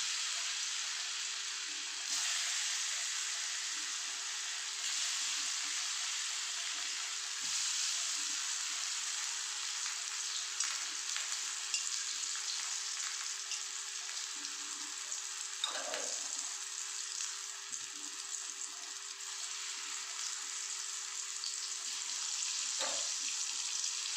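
Food frying in medium-hot oil gives a steady, even sizzle with small crackles and pops throughout, close by, with no talking.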